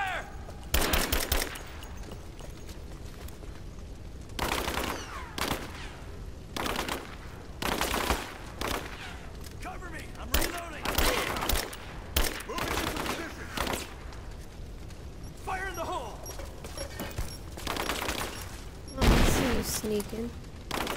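Gunfire in the Rise of the Tomb Raider video game: repeated sharp shots and short bursts spaced through a tense firefight, with occasional voices and ambient battle noise in between.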